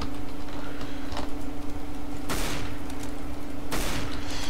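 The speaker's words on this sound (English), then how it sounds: "these auto snipers, so rapid fire" An auto sniper rifle in Counter-Strike: Global Offensive fires in two sharp, loud cracks a second or so apart, over a steady humming background with faint ticking.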